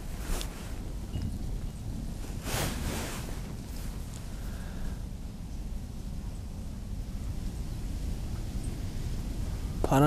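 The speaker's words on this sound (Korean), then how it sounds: "바람이 점점 세진다" Steady wind gusts buffet the microphone at dawn beside a winter fishing canal in South Jeonnam, a constant broadband rush with a few sharper gusts early on, no voices.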